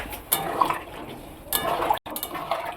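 Water from a spice bowl splashes into a simmering curry of paneer, potol and potato, with brief pouring bursts and light clinks of a bowl against the pan, close by.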